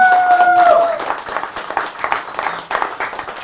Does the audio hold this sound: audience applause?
yes